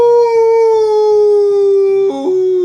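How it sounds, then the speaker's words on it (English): A creature howls up at the moon in a long, loud, sustained howl with a steady falling pitch, near and alone, breaking briefly near the end before resuming. "It stood over its victim, howling up at the cold white moon."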